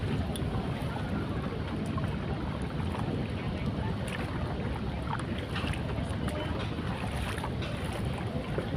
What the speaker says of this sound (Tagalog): Yung ibang bangka paalis na.